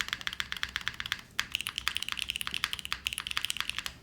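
Rapid typing on a mechanical computer keyboard, crisp close clacks in a steady irregular stream with brief pauses and heavier spacebar thocks mixed in, no talking.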